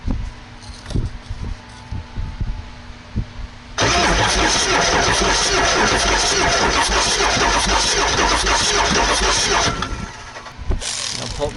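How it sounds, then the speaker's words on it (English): A Ford F250 7.3 Powerstroke diesel with its glow plugs removed cranks over for about six seconds, a loud, rough, continuous churn that starts abruptly after quieter shop sounds and then cuts off, with brief talk around it. "remove the glow plugs so that I could cycle the engine over and blow out all of the oil that's in the cylinders"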